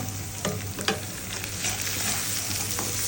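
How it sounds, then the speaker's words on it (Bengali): Onion and garlic stirred while frying in a pan for crispy browned onions, a constant hiss of sizzling oil broken by a few scraping strokes of the spoon, close and fairly loud, with no talking. "বেরেস্তার জন্য সেটা আম্মু নাড়া দিচ্ছে, নয়তো পুড়ে যাবে"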